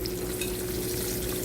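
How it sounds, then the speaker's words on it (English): Paprika-coated chicken pieces frying in hot, reddish-orange grease, nearly deep-frying, giving a steady dense sizzle and crackle, close and continuous with no voices. "And it's pretty much almost deep frying."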